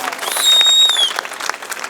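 Audience applause at a political rally in Maharashtra, a short burst of crowd clapping that swells and fades, with a thin whistle-like tone above it and voices underneath.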